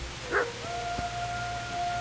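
A dog in the medieval game Kingdom Come: Deliverance gives one short bark or yelp, a little distant, followed by a faint sustained tone over soft background ambience.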